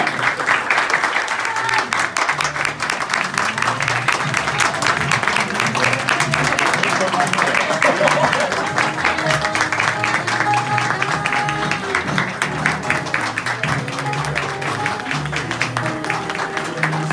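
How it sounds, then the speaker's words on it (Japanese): A large crowd claps steadily for finalists at a Miss Universe Japan Kanagawa pageant, continuous dense applause with music or voices faintly underneath throughout. "皆様もう一度大きな拍手をお願いいたします。"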